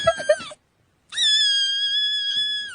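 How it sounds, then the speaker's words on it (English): A crying cat gives a short broken whimper, falls silent briefly, then lets out a long, loud, drawn-out wailing meow, close and clear. "Number 2, crying cat."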